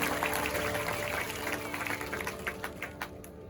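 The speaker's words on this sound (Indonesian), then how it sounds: "Berikan tepuk tangan yang meriah buat Tuhan." Congregation clapping at a church revival service in Doloksanggul, a brief burst of crowd applause that fades within a few seconds amid a noisy, reverberant hall.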